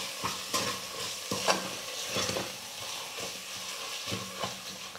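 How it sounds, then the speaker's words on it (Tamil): Chillies, sambar powder and salt being stirred in a pan for paruppu sadam, with repeated close scraping strokes of a spoon over a soft, low sizzle. "இப்போ இது எல்லாத்தையும் சேர்த்து நல்லா கலந்து கொடுத்துக்கலாம்."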